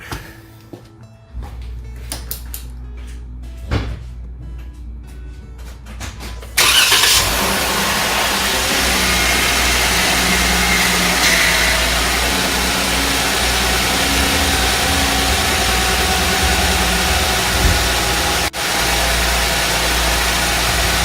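A 2016 Jeep Wrangler JKU engine cranks and catches about six seconds in after some handling noises, then settles into a loud, steady close-up idle for the rest of the clip.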